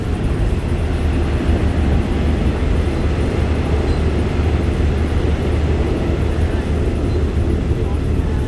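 An SRT passenger train in Bangkok rolls toward Bang Sue station, giving a steady, loud, close rumble of wheels and carriage noise that fills the whole stretch without letting up.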